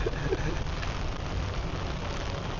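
Steady rain on a wet morning in Samkong, Phuket, Thailand, heard from high ground as a continuous broadband hiss with no break, moderately loud throughout and no voices on top.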